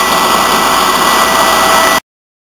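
A Corliss-type high-speed stationary engine with radially offset cylinders runs steadily, giving a loud, even mechanical roar and hiss for about two seconds before it cuts off abruptly.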